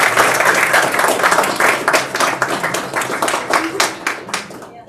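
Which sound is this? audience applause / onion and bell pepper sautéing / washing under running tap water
audience applause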